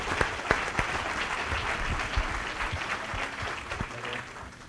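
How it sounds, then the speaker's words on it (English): An audience at a community forum claps in sustained, even applause that fills the room, with a few louder individual claps standing out near the start. "applause."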